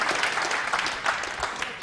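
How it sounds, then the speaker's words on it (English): Crowd applause in a pool hall at the 2006 World Cup of Pool final between the USA and the Philippines, a steady dense patter of clapping lasting a couple of seconds with no talk over it. "Everybody applauding the effort from Rodney Morris there"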